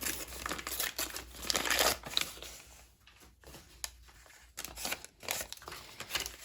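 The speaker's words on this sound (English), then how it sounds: "I'll just tear it." Paper is torn by hand for a junk journal, with a few rough, close ripping and crinkling bursts separated by brief pauses.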